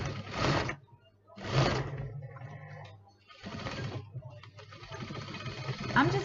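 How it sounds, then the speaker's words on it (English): A sewing machine stitching across the corners of a lined zipper pouch runs in short bursts of fast whirring with pauses between them, while a person talks. "You're going to be putting it underneath the sewing machine and give it a stitch going right across."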